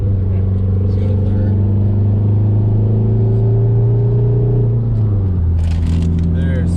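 A built Volkswagen MkIV TDI driving through the gears, a loud, steady diesel engine drone heard from inside that drops in pitch at a gear change near the end, with faint clicks.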